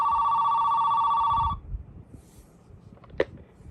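A vintage AT&T landline telephone ringer sounds a loud, steady electronic warble for about a second and a half, then stops, followed by handling clatter and a brief click.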